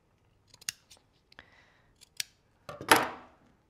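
Scissors trimming the glued fabric tunic of a handmade clothespin doll: a series of sharp, close snips at an irregular pace, ending with a longer, crunchier cut through the layered material.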